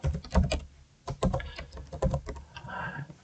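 Keys clatter on a computer keyboard as text is typed into the nano editor, bursts of quick close taps with short pauses between them, alone with no talk.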